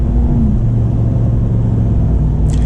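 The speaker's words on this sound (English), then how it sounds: "now we can do a little acceleration here. Hear that supercharger?" Steady low engine rumble from a 2023 Ram TRX pickup with supercharged V8 under acceleration, continuous and close, a faint high whine possible over the drone.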